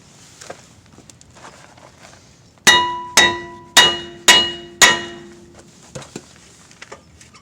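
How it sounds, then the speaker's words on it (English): Five sharp metallic hammer strikes on a Chevy Tahoe brake rotor ring out in steady succession, each clang decaying quickly, against a quiet background with faint clicks. "I'm gonna go ahead and tap on this with the hammer"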